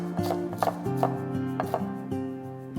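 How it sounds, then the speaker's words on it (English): A knife chops green onion sticks on a cutting board in about seven crisp, unevenly spaced cuts, close and clear over soft background music. "Finally, chop 2 sticks of green onion."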